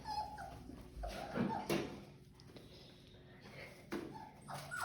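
A young female puppy separated from her littermates whimpers and fusses in soft, high, wavering whines with a few yips, close by and fairly quiet, broken by brief gaps and light background noise.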